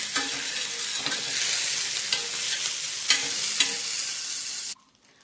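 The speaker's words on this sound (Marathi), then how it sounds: "तवा गरम झालेला, तर लोणी टाकूया आपण याच्यावरती." Homemade butter sizzling loudly on a hot tawa, a dense steady crackle with a few brief scraping stirs, cutting off abruptly near the end.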